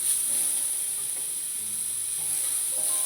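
Garlic frying in oil in a pan, a steady, close, even sizzle and hiss that holds unbroken throughout, with faint low background noises beneath and no talking.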